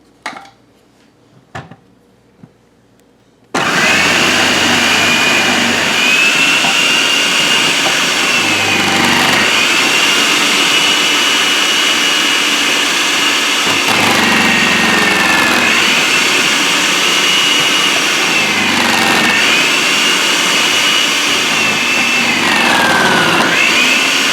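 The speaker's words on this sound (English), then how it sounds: "So today I'm going to shred this zucchini so I can get started on a recipe." A food processor or electric shredder grinds through zucchini with a loud, steady motor whine and rattling blade noise that starts abruptly after a few quiet seconds and runs continuously, dipping briefly in pitch a few times as pieces feed in.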